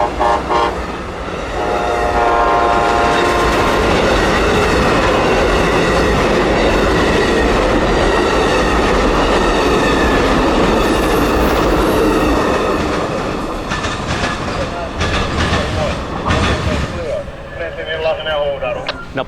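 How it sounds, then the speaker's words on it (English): Amtrak 92, the Silver Star passenger train heading north out of Tampa, roars past close by with repeated loud horn blasts over rumbling, clattering railcars, the noise swelling, holding steady, then fading as the train moves away. "was Amtrak 92, the Silver Star, coming north out of its Tampa stop"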